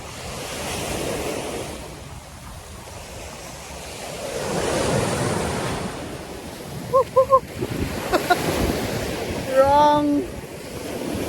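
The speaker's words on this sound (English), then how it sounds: "Should be like here because the wind is here and it's blowing my hair like this." Wind gusts across a sandy beach with surf nearby, a rough, rumbling buffeting on the microphone that rises and falls, and a few brief voices come in near the end.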